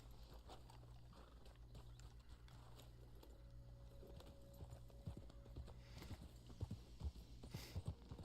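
Horse hooves clip-clop steadily in Red Dead Online, a quiet rhythmic series of hoofbeats on the ground that grows a little more pronounced toward the end.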